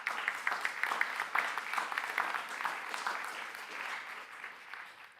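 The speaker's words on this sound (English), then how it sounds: "let's give them one more round of applause" An audience at a procurement conference gives a sustained round of applause, many hands clapping steadily at moderate loudness for the whole stretch, with no talk over it.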